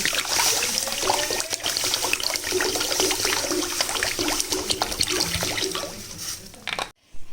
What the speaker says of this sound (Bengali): এই জলটা আমি ফেলে দেবো যেহেতু গরম জলে ধুলাম